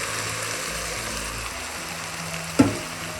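Vegetables and rice for a vegetable pulao sizzle and fry steadily in a pan, with a soft continuous crackle and one brief scrape or knock of the stirring spoon near the end.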